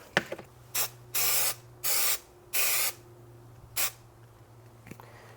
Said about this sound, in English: Now we are going to spray again.